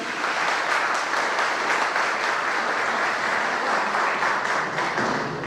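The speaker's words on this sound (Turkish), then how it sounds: "Alkışınız o kadar güçlü geldi ki Ankara'dakiler duymalı." Sustained, loud applause from a large audience at a Republican People's Party (CHP) congress in Turkey. It is a dense, steady roar of many hands that fills the whole stretch without a break.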